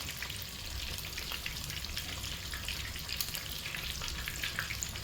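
Chicken fries in an old-school cast iron pan with a steady, bright sizzle and scattered popping crackles, close and constant throughout with no voices.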